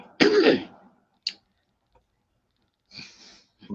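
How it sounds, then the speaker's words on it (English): A harsh, loud cough bursts out, followed by a short throat sound, a long silence, then a few rough, quieter coughs. "I'm still coughing."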